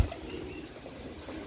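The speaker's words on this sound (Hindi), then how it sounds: "पैरामोज कबूतर है, बड़ा अच्छा कबूतर है माशाल्लाह।" A Paramoz pigeon coos softly and low against a quiet, steady background, with no talking during the short call.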